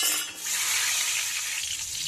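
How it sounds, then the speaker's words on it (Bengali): Pumpkin pieces fry in hot oil in a pan, a steady close sizzle that holds for a couple of seconds with no voices. "কুমড়োগুলো লাল লাল করে ভেজে নিয়েছি"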